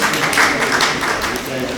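A crowd at the Jaipur Kavya Mahotsav poetry festival bursts into brief applause, a dense wash of clapping lasting under two seconds, with a voice heard faintly underneath.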